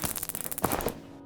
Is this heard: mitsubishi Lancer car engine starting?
no